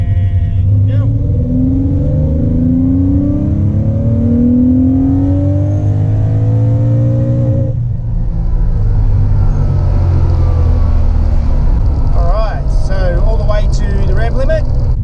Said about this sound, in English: Let's get it down to 2000 RPM. Right on 2000 RPM,